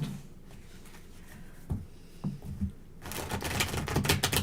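A deck of tarot cards is shuffled close by: a few soft riffles and taps, then a louder, rapid run of flicking card sounds toward the end.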